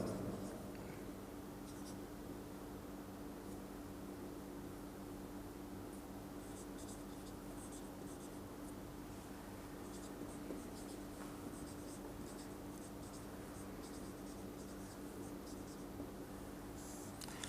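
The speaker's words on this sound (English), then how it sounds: "let me write it down" Chalk or pen writing on a board during a physics lecture on the photoelectric effect, heard as soft, steady scratching strokes that run continuously over a constant low room hum, with no talking.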